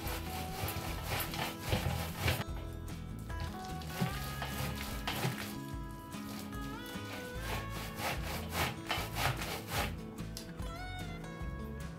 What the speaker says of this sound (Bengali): তালের আটিগুলো সামান্য জল দিয়ে চটকে নিয়ে গ্রেটারে ঘষে তালের পাল বার করে নিলাম